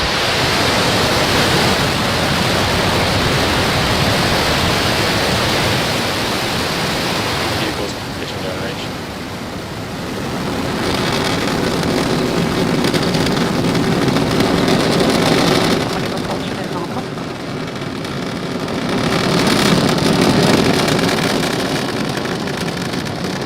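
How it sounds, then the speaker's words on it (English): A SpaceX Starlink rocket launch roars as a dense, continuous broadband rumble that stays loud and steady for over twenty seconds, swelling and fading slightly in waves. "Ignition. And we have liftoff."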